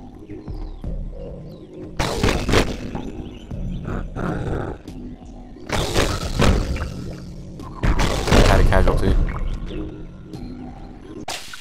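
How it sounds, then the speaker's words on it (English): Blocks smashing in the Boom Blox video game: several loud, crashing bursts come in separate waves, each with a roaring, booming rush of tumbling debris and quieter clattering gaps between them. "think the bomb might have something to do with it"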